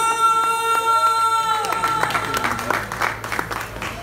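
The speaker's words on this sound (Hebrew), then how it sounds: "מחיאות כפיים, זה מחיאות כפיים!" A crowd at a 2018 winter concert applauds a singer, dense clapping and some cheering swelling over lingering music tones, with a voice briefly shouting over it.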